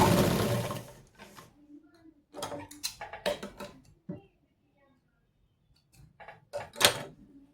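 Sewing machine stitching crosswise across a blouse shoulder: short bursts of rapid mechanical ticking and whirring, separated by pauses, with some talking near the start.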